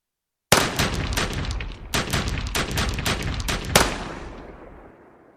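A sudden burst of rifle fire, rapid overlapping shots in two clusters, loud and sharp, trailing off into a fading echo.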